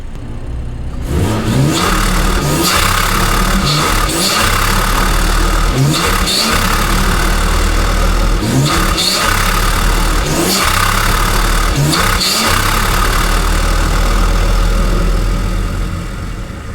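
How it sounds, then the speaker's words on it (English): A car engine fitted with a front-mount intercooler revs hard again and again near the microphone, each throaty surge rising and falling in a steady rhythm over a constant low idle rumble, loud throughout with no talking. "Ever since I did that front mount, bro, it just sounds crazy."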